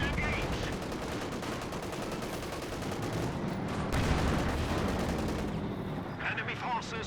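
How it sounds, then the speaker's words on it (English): Mortar and artillery impacts in the strategy game Company of Heroes 2 over dense battlefield gunfire, a continuous crackling barrage of shots and blasts, with a voice talking over it. "Great mortar hit there."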